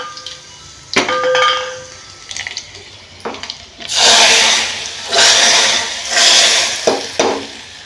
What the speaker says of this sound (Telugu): ఆఫ్ చేసుకొని పప్పులు అయితే పోసుకుందాం